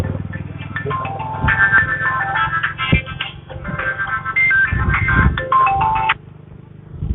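A mobile phone ringtone plays a loud, repeating electronic melody for about six seconds amid low background noise and scattered knocks, then cuts off.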